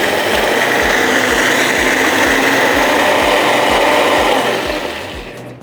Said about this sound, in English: Let's start blending this now to make this a lovely marinade.